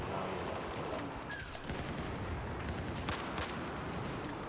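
Gunfire in the video game Battlefield 4, a dense, continuous battle din of overlapping shots and blasts sustained at steady loudness throughout.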